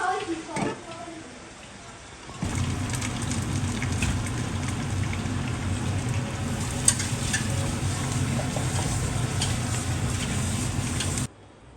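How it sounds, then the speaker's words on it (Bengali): Hilsa fish in mustard sauce cooks in a covered pan, a steady, close bubbling sizzle that starts abruptly after a brief clatter and holds evenly before cutting off. "এই অবস্থায় আরও দশ থেকে বারো মিনিট মাছটাকে রান্না করব ঢেকে"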